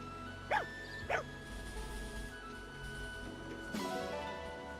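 A dog in Fire Emblem Engage gives two quick close barks early on, then one more sharp bark near the end, over a soft ambient game background.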